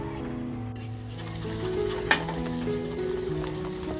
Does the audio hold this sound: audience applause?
no